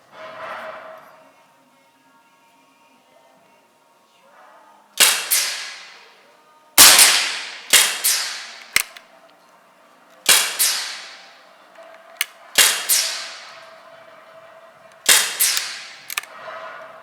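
A rifle topped with a Nikko Stirling Hornet 10-50x60 scope fires about seven sharp, loud cracks at uneven intervals while being zeroed, each with a short ringing tail, and no voices between.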